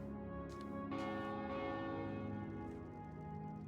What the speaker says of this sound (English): So the bell is clicked.